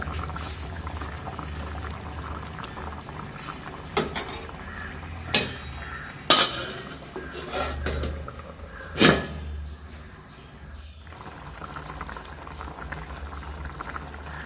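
Steady bubbling of chicken curry simmering in a covered pot on the stove, with a few sharp knocks and clatters scattered throughout.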